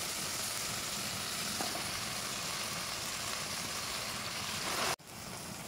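Bottle gourd greens frying in a pan with shrimp and potatoes, giving a steady broadband sizzle that holds evenly for several seconds, with a brief break near the end before the hiss resumes.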